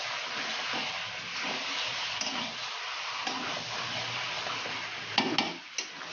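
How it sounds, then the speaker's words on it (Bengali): Chicken pieces being sautéed in a pan for chicken kaliya give a steady, close hiss and sizzle, with faint stirring scrapes and a few brief louder clinks near the end. "আর চিকেনগুলো দিয়ে কিন্তু এবার করতে হবে এটাকে কষতে হবে"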